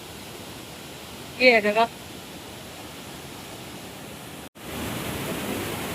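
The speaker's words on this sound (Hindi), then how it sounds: "ये है वो भट्टा वाटरफॉल" Bhatta waterfall in Mussoorie gives a steady, even rush of falling water throughout, with a brief spoken phrase over it.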